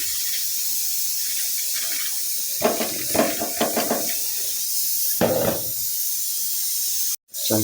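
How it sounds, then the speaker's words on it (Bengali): Rice goes into a hot pan and fries with an ongoing hiss, broken by several louder sizzling bursts in a cluster and one more later, then a sudden brief drop to silence near the end. "এখন চালটা দিয়ে দেব দিয়ে একটু ভাজবো"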